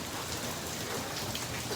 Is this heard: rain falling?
yes